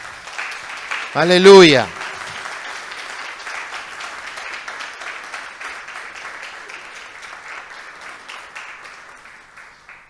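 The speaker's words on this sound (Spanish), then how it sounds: "Dele un aplauso al Señor." Church congregation applauding after a sermon line, a sustained wash of clapping that runs throughout, with a single loud voice calling out briefly near the start.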